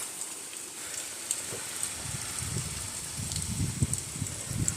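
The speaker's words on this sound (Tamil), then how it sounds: "சூரிய ஒளியே இல்லை, மழை பெஞ்சிட்ருக்கு" Rain falls at a solar pump site running a 3 hp V4 BLDC pump from 600 feet, a soft steady patter with scattered nearer drops and faint rustling, no voices.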